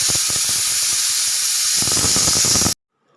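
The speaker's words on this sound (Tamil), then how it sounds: "இது ஸ்டீம் எல்லாம் ரிலீஸ் ஆகட்டும்" Steam hisses loudly and steadily from a pressure cooker of masala kanji after the stove is turned off, a harsh continuous rush with faint rattling underneath that cuts off abruptly.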